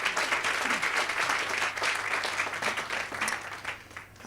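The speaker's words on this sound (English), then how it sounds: "Another round of applause, please, for Lanny." An audience at a book launch applauds steadily, a dense wash of many hands clapping that holds for about four seconds before easing slightly at the end.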